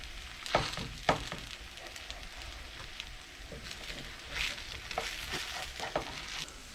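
A pike pancake frying in a pan gives a quiet, steady sizzle with scattered crackles and a few sharp scraping clicks of a spatula, heard alone without talk.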